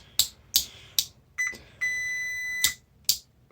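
Continuity tester beeping across the contacts of a Commodore C112 calculator switch: several short sharp beeps as the switch is flicked on and off, then one sustained tone of about a second, clear and close with no talk.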